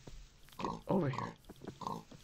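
A few cartoonish Minecraft pig grunts and oinks, loud and close, with short breaks between them.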